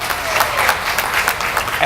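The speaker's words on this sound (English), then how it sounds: "Give them a round of applause, please." A crowd at the Indiana State Fair claps and cheers in a dense, continuous burst of applause, close and loud, with scattered voices mixed in.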